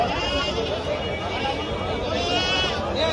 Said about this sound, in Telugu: మేకలు, పొటేన్లు అన్నీ వచ్చినాయి.